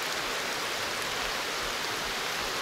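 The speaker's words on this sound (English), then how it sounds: "this is nasty rain" Heavy, nasty rain pours down steadily in a wooded area, a dense, even hiss of drops with no pauses and no voices.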